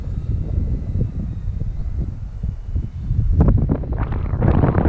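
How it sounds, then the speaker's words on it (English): Gusty wind buffets the microphone while an E-flite Maule RC plane flies, a constant low, rough rumble that swells louder toward the end, with no voices. "that wind is not very forgiving right now"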